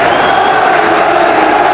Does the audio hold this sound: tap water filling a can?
no